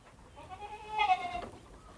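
Goats bleat on a farm in a short, close call with a wavering tone, rising to a louder peak midway before trailing off over faint background noise; no speech.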